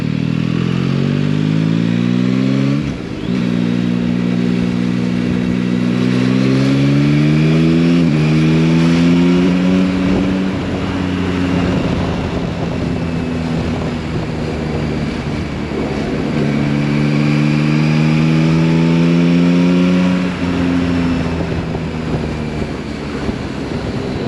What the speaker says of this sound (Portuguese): É engraçado que o 3 cilindros, isto é viciante, a moto tem um barulho muito fixe.